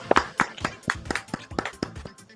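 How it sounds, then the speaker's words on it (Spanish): A small group claps for a show, giving a few loose, uneven hand claps roughly every quarter second, close and fairly sharp with gaps between them rather than a full ovation. "aplauso para el show de Cristi"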